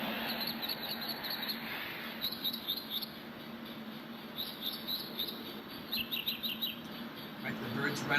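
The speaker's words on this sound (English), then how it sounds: "There goes the bird right over my car, right above my car on the power line." Pigeons and other birds call from a power line above a parked car on a street, short chirps repeating in bursts over steady outdoor background noise, fairly faint and distant.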